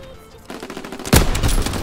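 Video game gunfire breaks out as a sudden loud, rapid burst of shots after a quieter moment, close and sharp.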